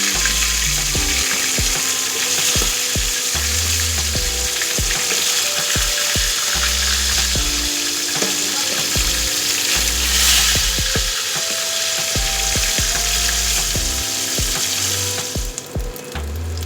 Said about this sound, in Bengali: তেল আমার অলরেডি গরম হয়ে গেছে, এবার আমি মাছগুলো এর মধ্যে দিয়ে দিচ্ছি।